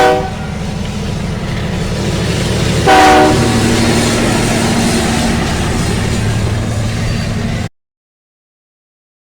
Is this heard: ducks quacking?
no